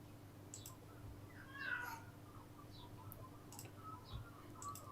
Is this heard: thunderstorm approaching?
no